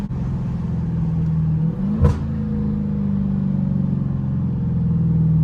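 A Dodge Hellcat drifting holds a steady, loud engine drone with a brief sharp burst midway, the roar continuing evenly under the sliding car.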